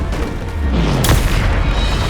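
Bombarda spell explosion in Hogwarts Legacy, heard as a loud, deep, rumbling boom with a sharp burst about midway through a dense, continuous roar.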